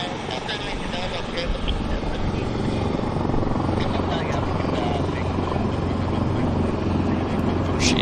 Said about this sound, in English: they're just engine running that big helo